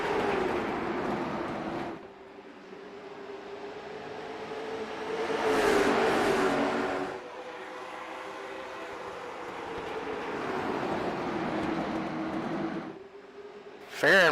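Late model stock cars roar down the front straight in a drag race, a sustained, loud engine drone with rising and falling pitch as the pack passes close, swelling in the middle before easing off.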